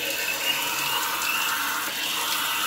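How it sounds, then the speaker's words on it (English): Water runs steadily from an outdoor shower, a continuous even hiss of spray that holds at the same level throughout with no talking. "Full shower right there."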